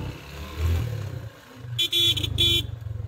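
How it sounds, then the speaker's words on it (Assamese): A vehicle horn sounds on a steep mountain road turn, two short loud honks over the low rumble of the engine as it descends. "হৰ্ণ বজাবলগীয়া হৈছে কাৰণ টাৰ্ণিং হয়"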